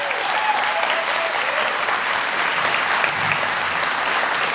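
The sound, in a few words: audience applause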